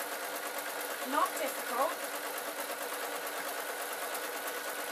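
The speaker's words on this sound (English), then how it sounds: "I'm going to sew along this strip." Sewing machine stitching along a fabric strip for homemade costume horns, a steady quiet mechanical whir with two brief bursts of faster stitching, under a voice talking.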